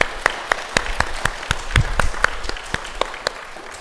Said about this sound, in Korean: 일단 박수 한번 치고 시작을 하자고요.